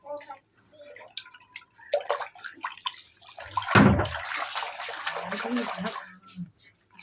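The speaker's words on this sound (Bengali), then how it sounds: "তো কাপড় জামাগুলো এখন ভিজিয়ে নেবো।" Water running and dripping into a tub or basin while clothes are set to soak at home, splashing steadily through the middle and fading to drips, with no talk over it.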